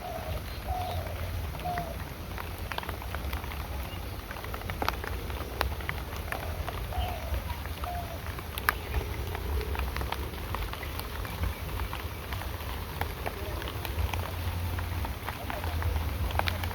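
Rain falling steadily on taro leaves in a village setting in the early morning, a continuous soft patter with scattered louder drops and a low background hum, with no talking.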